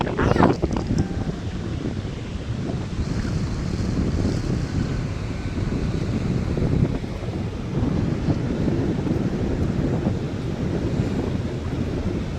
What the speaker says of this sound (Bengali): সমুদ্রের এত আওয়াজ, সমুদ্র এত কথা বলছে